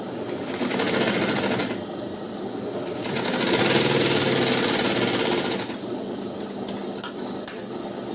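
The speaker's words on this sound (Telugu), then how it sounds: "ఇలా కుట్టుకోవాలి." Sewing machine stitching blouse lining cloth, running in two sustained loud bursts of rapid whirring with a short pause between, then a few light clicks and taps as it stops.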